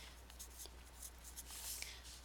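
Marker or chalk scratching across a classroom board in short, irregular strokes, faint and close, over a low steady hum.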